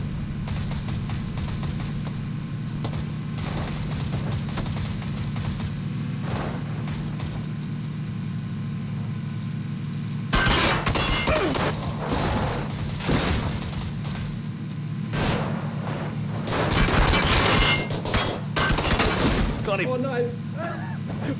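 Gunfire during a car chase in PUBG, a steady vehicle engine drone under scattered bursts of shots that grow denser midway, with players talking over it.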